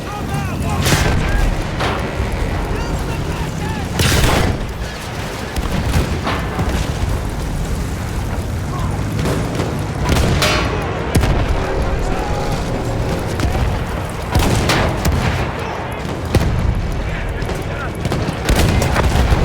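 Battlefield 1 World War I combat at Ribécourt around a Mark V tank, with repeated heavy artillery booms and bursts of gunfire over a constant rumble, several sharp loud blasts spaced irregularly, with voices heard amid the din.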